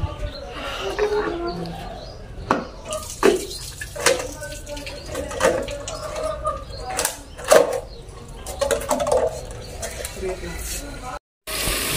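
Lentils for dal are rinsed in water by hand, with repeated sloshing splashes and swirls at close range, while a person talks over the washing.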